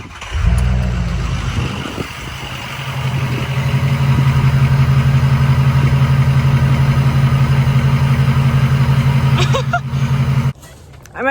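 A diesel truck fitted with a loud stack exhaust runs close by, its deep idle rumble swelling into a steady, heavy drone that holds for several seconds before cutting off abruptly near the end.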